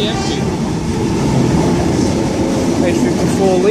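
A Sydney Trains Oscar H-set passing through Mortdale station, a loud close rumble of wheels and carriages with rhythmic clatter and brief high wheel squeals.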